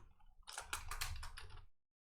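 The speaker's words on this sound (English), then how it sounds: "You can do this by typing wait." Quiet keystrokes on a computer keyboard as a short command is typed into a text-based game, a brief cluster of clicks lasting about a second before falling silent.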